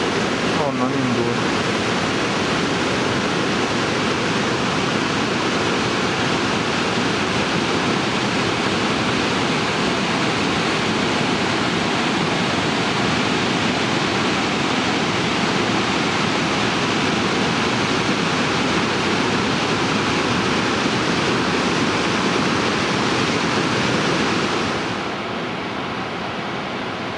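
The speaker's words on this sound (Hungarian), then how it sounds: "A túloldalon ez a kis vízesés" A small waterfall in Norway rushes in a constant, loud, broadband roar that stays unbroken for nearly half a minute before easing slightly at the end.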